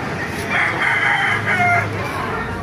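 Roosters crow loudly and close by at a poultry market in Baliuag, overlapping calls stretching across a couple of seconds.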